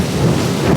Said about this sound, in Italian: è cominciato a piovere e in questo momento sta anche grandinando